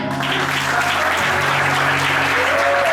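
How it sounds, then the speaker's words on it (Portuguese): Loud, sustained applause from a congregation during a church sermon fills the whole moment as a continuous, dense roar of many hands clapping close by, with a voice faintly underneath. "Aplauda Jesus"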